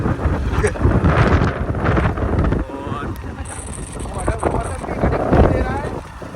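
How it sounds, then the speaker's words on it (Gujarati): Strong storm wind in Banaskantha, Gujarat, during flooding buffets the microphone in heavy, continuous gusts, with a boat engine or water churning faintly beneath and brief voices in the mix. "અત્યારે હાલ વાયરો પણ વધારે છે વાવાઝોડું"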